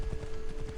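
Horse hooves clip-clop at a steady trotting rhythm in Assassin's Creed Odyssey, moderately close and continuous over a low hum of game ambience, with no talk.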